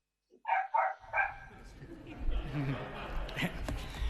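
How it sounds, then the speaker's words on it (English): A dog lets out three quick barks, fairly close, then a murmur of voices and room noise follows. "Notwithstanding some barking in the background"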